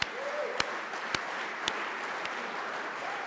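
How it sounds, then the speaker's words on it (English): A crowd at a civic association candidates night applauds the timekeepers with a dense, steady round of clapping and a few louder individual claps. "A round of applause for our timekeepers."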